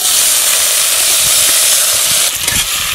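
Green chilies and four cut tomatoes dropped into hot oil, giving a loud, steady, close sizzle with hissing steam that holds throughout and flickers slightly near the end, with no talking.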